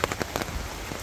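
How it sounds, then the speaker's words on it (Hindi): Heavy rain falls steadily at the Golden Pagoda in Namsai, Arunachal Pradesh, a dense continuous patter with sharper nearby drops striking surfaces. "बारिश हो रहा है"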